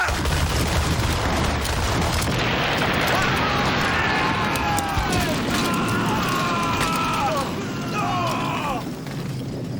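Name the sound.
ship's cannons firing a broadside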